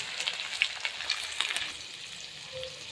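Capsicum, cabbage and garlic stir-fry in very hot oil in a kadhai, giving a steady close sizzle with scattered sharp crackles and pops throughout.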